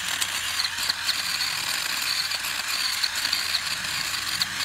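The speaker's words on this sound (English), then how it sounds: "Called a cultivator tiller." A handheld cultivator tiller running outdoors while working a pasture, giving a steady whirring, ratcheting mechanical drone with rapid gear-like clicking at an even level throughout.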